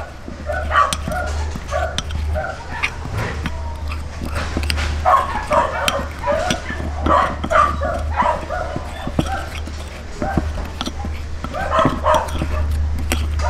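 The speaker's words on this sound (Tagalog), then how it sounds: "Sinsya na po sa mga aso ah." Close, repeated barking, yipping and whining from several dogs fills an outdoor spot where spicy, crispy lechon belly is being cooked, with a constant low hum underneath.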